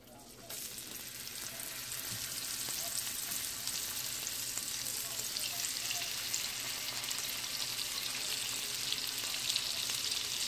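Steady, continuous sizzling of food frying in a hot pan, loud and close, with a faint low hum underneath and no talking.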